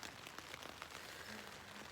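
Steady rain patters on the fabric of a Big Agnes Tiger Wall tent, a soft continuous hiss with scattered individual drops, heard from inside at low volume.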